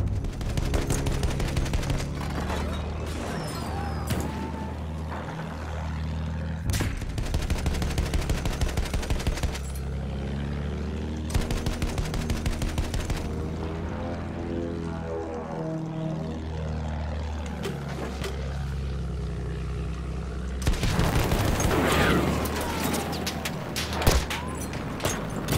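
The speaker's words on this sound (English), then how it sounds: "Trying to shoot me down with a tank." Gunfire and engine roar fill a war video game as a tank fires at the player, with bursts of shooting over a continuous droning aircraft engine and a loud blast near the end.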